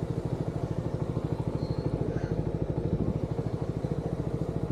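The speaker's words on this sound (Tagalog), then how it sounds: "Painitin lang muna natin yung makina." A motorcycle engine idling while warming up, a steady rapid pulsing thump close by with faint clatter, alone without talk.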